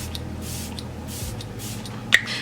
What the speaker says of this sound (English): I'm gonna use 2 sets of sprays. This is the luminous one.